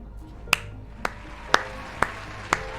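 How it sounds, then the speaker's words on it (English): Five sharp hand claps spaced about half a second apart, close and crisp against a quiet room background. "I was clapping!"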